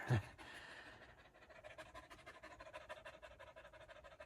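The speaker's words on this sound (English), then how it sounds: "She's like over here panting so hard." A dog pants fast and rhythmically after a trail run on Mt Ascension, quiet and close, with steady quick breaths continuing throughout.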